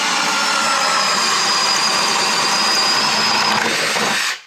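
Jigsaw cutting out an opening in a cabinet panel over a vent: a loud, steady, high-pitched buzzing whine that runs continuously and then stops abruptly near the end.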